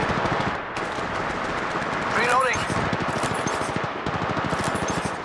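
Rapid automatic gunfire in the mobile shooter Apex Legends Mobile, dense bursts of shots running throughout with a brief whooshing effect midway, loud and close, with voices talking over it.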